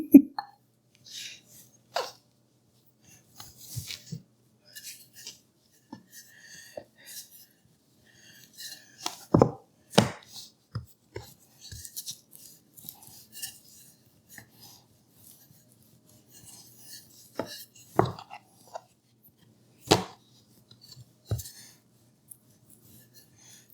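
A round cutter presses and scrapes through cheddar scallion biscuit dough on a board. Scattered soft rasps and thumps come with pauses between them, and intermittent speech is heard nearby.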